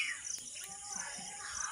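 Birds chirp outdoors in cool weather, with thin, high repeated tweets over a soft background hum, fairly distant and quiet.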